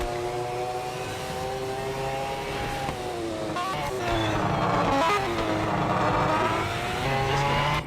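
A Group C sports prototype race car roars around Sebring in a racing video game, its loud engine holding a steady high drone that swells and shifts pitch through gear changes, growing louder toward the end with no talk.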